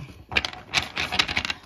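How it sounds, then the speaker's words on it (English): Tarot cards being shuffled by hand during a Scorpio reading: a quick run of crisp, papery riffling clicks and flutters in several short bursts, close and moderately loud, with no talking. "let me just shuffle the cards"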